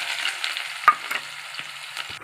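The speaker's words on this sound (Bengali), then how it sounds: "এবার আমি তেলে" Onions frying in hot oil give a steady close sizzle, broken by a few sharp clinks and stirring knocks from a spoon against the pan, with no voices.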